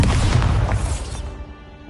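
Bombarda blasting spell in Hogwarts Legacy: one loud, close, heavy explosion with a deep booming burst that rumbles and fades over about two seconds.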